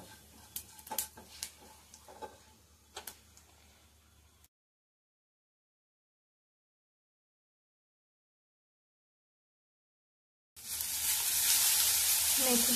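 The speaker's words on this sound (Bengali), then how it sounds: "এখন ওই কড়াইতে হালকা জিরে দিয়ে দেব, দিয়ে মেথি শাকটা ভেজে নেব।" A few faint clicks come first, then a long silence. After it, fenugreek leaves and cumin hit the oil in a kadai with a loud, steady, close sizzle.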